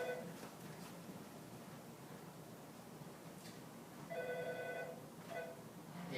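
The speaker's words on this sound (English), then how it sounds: "There's my phone ringing." A mobile phone ringing nearby during a homework lesson: faint, repeating ringtone bursts standing out over a low background hiss, with no talk.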